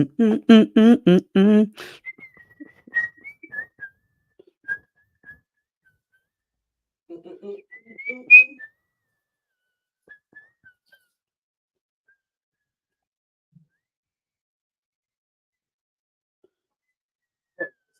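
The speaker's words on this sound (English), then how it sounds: "Were you about to whistle" A person whistles a short tune at a low level, a few thin scattered notes with long quiet gaps, after a brief burst of talk at the start.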